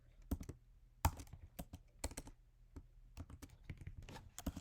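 Quick, light clicks of a computer keyboard as code is typed, uneven in rhythm with a few sharper key strikes, quiet and close with no talk.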